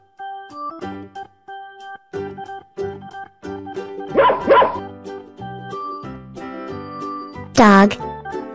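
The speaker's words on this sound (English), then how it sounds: "Dog." A dog barks twice in quick succession over light background music, and a short spoken voice follows a few seconds later.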